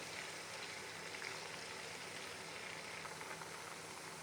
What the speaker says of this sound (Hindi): हल्का सा इसको करेंगे फ्राई